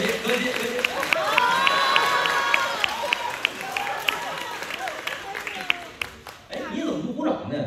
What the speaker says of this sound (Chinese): 大伙儿都鼓掌